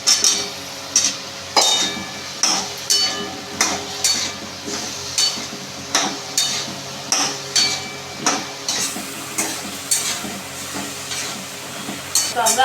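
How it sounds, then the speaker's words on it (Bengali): Pumpkin sautéing with spices in a pan for kumror chokka, a low steady sizzle broken by regular scraping and clinking strokes of a spatula against the metal, repeating roughly every second, close and fairly loud. "এরপর আমরা কুমড়োগুলো কষিয়ে নিচ্ছি।"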